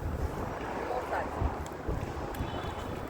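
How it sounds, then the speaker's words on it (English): Gusty wind on a Los Angeles-area outing, roaring across the microphone in a constant low rumble with a few stronger buffets, while people talk nearby. "Oh, it's windy today."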